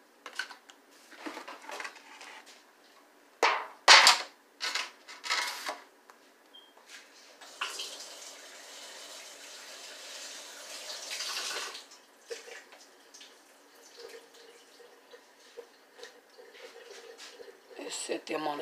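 Mango slices are rinsed under a running tap, with splashing water, bursts of flow and clattering handling of dishes, along with a few louder knocks.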